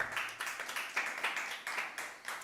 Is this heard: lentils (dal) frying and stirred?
no